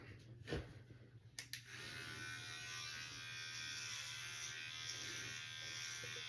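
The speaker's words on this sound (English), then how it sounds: "I'm just gonna take a little bit, shave a little bit of hair follicles off the top" Steady buzzing of an electric shaver running close by, trimming hair off the top of a scalp before a hair unit is glued on, with a few soft knocks at the start.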